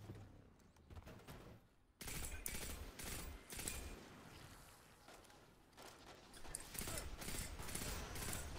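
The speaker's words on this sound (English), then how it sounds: "Can you stop shooting, like, explosive grenades at me?" Rapid bursts of game gunfire and explosive grenade blasts in Destiny 2, a dense, loud barrage that starts after a short quieter lead-in and keeps rolling with repeated shots and booms, with a voice faintly present.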